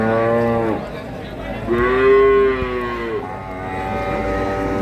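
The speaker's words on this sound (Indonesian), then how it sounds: "Tebel sapi ini." A cow gives a long, close, resonant moo at a cattle market, a drawn-out rising and falling call with a shorter lowing after it, with a faint engine hum in the background.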